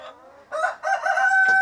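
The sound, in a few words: Rhode Island Red rooster crowing and chickens clucking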